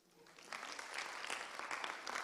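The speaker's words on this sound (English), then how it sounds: "So you can applaud yourself too." Audience applause at a university summit session, rising from quiet into steady, fairly loud clapping from a mid-sized crowd, continuing to the end.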